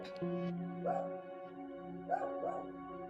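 Dog barking in a house, two short bursts of yips and barks a second or so apart, moderately distant, over a sustained droning tone in the background.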